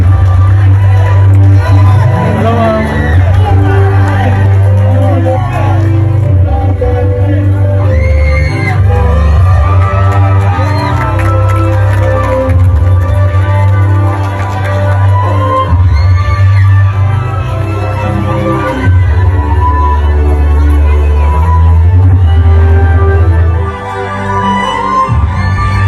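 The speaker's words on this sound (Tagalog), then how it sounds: "Kitang-kita mo yung hiyawan ng taong bayan na hindi plastic." Political rally crowd for VP Sara in Cotabato cheering, whooping and yelling continuously, loud and close, with dense babble throughout and a brief dip near the end.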